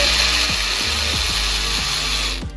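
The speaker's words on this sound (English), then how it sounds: "So we're just going to break these bolts loose." A power tool breaks loose the bolts on an automatic transmission pan, with a steady loud whine and several short ratcheting bursts as each bolt gives, then a drop-off at the end.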